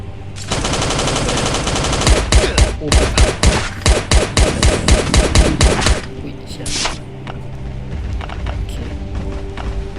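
A fully modded shotgun in a video game fires a rapid, loud volley of blasts for several seconds, followed by a few scattered shots and quieter game sounds.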